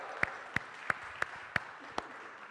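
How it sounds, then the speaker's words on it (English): Slow, evenly spaced claps from a church congregation greeting its returning choir, six distinct sharp hits at a steady rhythm over a soft background, fairly faint and roomy. "Let's give them a round of applause."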